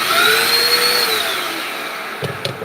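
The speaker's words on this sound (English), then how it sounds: "I got this dang vacuum cleaner here." A household vacuum cleaner that tends to clog, whining loudly up close with a high motor tone that slowly drops as it winds down, followed by a couple of knocks.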